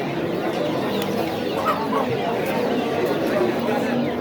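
Hens clucking in a busy poultry market in Tashkent region's Qibray district, steady clucks and crowd chatter blending together in a dense, continuous background.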